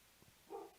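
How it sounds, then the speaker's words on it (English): A dog gives a couple of faint, short yips and then one brief bark, heard at a distance in a quiet room. "That's my dog."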